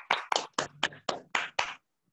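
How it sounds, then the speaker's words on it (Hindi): An audience at an achievers' award gathering claps together in seven loud, evenly spaced claps that stop abruptly into silence, with no speech. "टैप अचीव करने के लिए एक जोरदार ताली होनी चाहिए"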